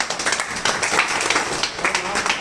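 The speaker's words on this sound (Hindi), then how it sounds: "हेमंत सर के लिए तालियां।" An audience claps for a guest, the head of a technical team, called up at a commerce coaching institute's first-anniversary event. Dense clapping runs throughout, with voices mixed in.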